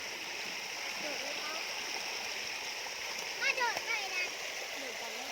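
Steady rushing stream water flows strongly throughout where children play, with brief splashing and faint voices in the background.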